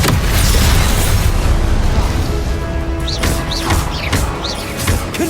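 A Confringo blasting spell detonates in Hogwarts Legacy, a loud booming burst with rumbling debris, followed by several sharp whooshing spell zips and cracks in quick succession.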